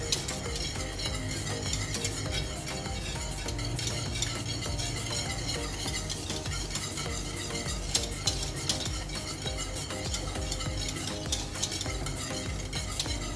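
A utensil stirs homemade condensed milk bubbling in a pot, a continuous soft scraping and sizzling texture with faint clinks against the metal, steady and fairly quiet throughout.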